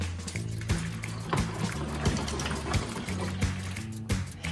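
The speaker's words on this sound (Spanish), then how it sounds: "Añadimos las patatas y el agua." Water is poured into a pot holding potatoes and green beans in a home kitchen, a steady close trickle and splash running for several seconds, punctuated by a few light knocks against the pot.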